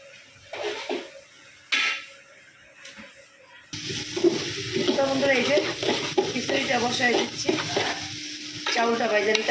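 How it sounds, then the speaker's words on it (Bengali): Meat and rice are stirred and fried in a pan. A few scraping stirs come first, then a steady loud sizzle with utensil scrapes, and a voice speaks over the cooking. "এই যে মাংসটা হয়ে গেছে এখন চাউটা ভাজা হয়ে গেছে"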